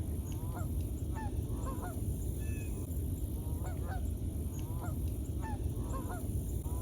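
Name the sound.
flock of Canada geese flying overhead honking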